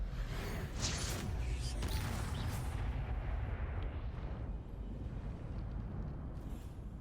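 A Bombarda blasting spell in a Harry Potter video game booms into a loud, dense explosive rumble that fades slowly into a long, noisy tail with some rattling debris.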